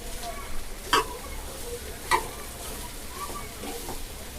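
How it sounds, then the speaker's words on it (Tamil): Wheat-flour momo filling half-sautéed in a pan, giving a soft continuous sizzle with a couple of sharp spatula scrapes against the metal, close by and fairly quiet. "இது நல்லா வதக்கூடாது ஒரு பாதி அளவுக்கு வதக்குவோம்"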